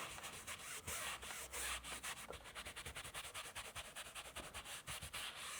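Small brushes scrubbing car headliner fabric, a quiet rhythmic rubbing of short repeated strokes, close up and alone.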